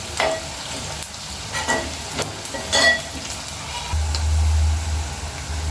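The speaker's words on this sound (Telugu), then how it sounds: "మంచిగా ఉల్లిపాయలు బిర్యానీకి లాగా ఫ్రై చేసుకోవాలండి" Onions frying in a pan until golden for a chicken fry, a steady close sizzle with repeated scraping stirs of a spoon throughout, no voices.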